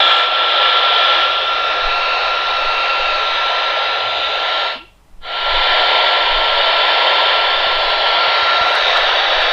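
A loud, steady hiss and static roar from a Kinnota R5 Mini radio on an external antenna, with a faint tone buried inside, cutting out briefly halfway before returning at full strength.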